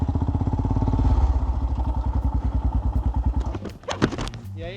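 Royal Enfield Himalayan motorcycle engine thumping close by with a slow, even single-cylinder beat that gradually quickens, then stops, followed by a few clatters and knocks.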